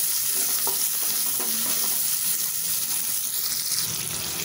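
Half a large chopped onion sautéing in hot oil in a pan for a Tamil fish kulambu, a steady close sizzle with stirring scrapes running throughout and no talking.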